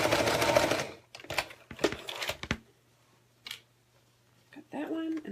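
A sewing machine runs in a short loud burst as it back stitches a zipper, followed by scattered clicks and handling noises, a quiet stretch and a second brief run, with a voice talking in between.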